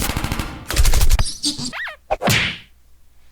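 A quick volley of punchy gunshots and impacts in the game Henry Stickmin, followed by a short whistling zip and a final crack, loud and close.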